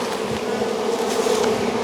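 Honey bees at a congested hive trying to swarm give off a dense, continuous buzz, close and loud, with no voices.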